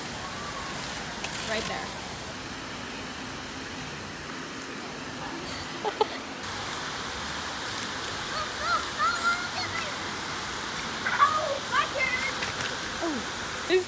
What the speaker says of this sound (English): So I'm over here by the jumping water fountains.